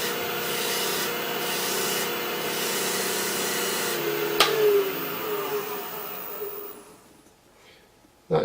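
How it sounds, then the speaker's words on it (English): Natural bristle brush burnishing wood on a spinning lathe, a steady close rubbing hiss that runs evenly and then fades away toward the end, with no talk. "I'm going to increase the lathe speed a little for this and burnish."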